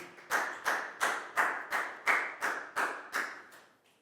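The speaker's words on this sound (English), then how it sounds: "a big round of applause for Pak Bung" Classroom of young pupils giving a round of applause for a classmate, heard as about ten evenly spaced, close, loud claps in a steady rhythm that fade at the end.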